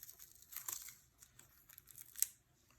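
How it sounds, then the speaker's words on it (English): Tape pulled off a handmade magic wallet card, brief quiet tearing and crinkling rasps close by, with one sharper rip near the end. "Let's just pull this tape out here."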